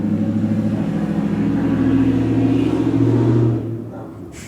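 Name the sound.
loud car engine revving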